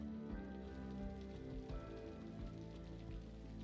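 Rain falls in the city-building game Cities: Skylines, a steady soft hiss with scattered drop patter, faint and continuous with no talk.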